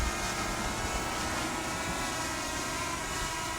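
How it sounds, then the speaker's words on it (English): Holy Stone HS175D GPS drone hovering outdoors in strong wind, its motors giving a steady loud whirring buzz that fills the air without pause. "you can hear the motors changing the power to compensate for the wind"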